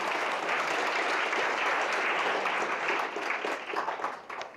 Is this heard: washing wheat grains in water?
no